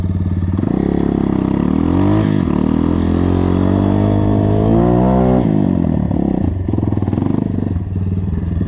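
A small motorcycle engine, an MZ 250 or MRT 50 with a freshly changed carburetor, runs loud and close, its steady drone rising and falling in pitch as the throttle is worked.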